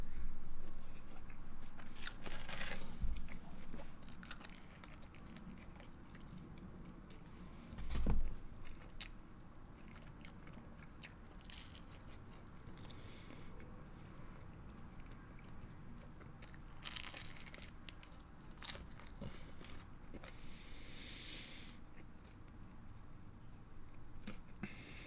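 Someone eating food at a desk during a programming session, with scattered close crunching bites and chewing over a quiet steady room hum, one louder crunch standing out and softer chews continuing sporadically.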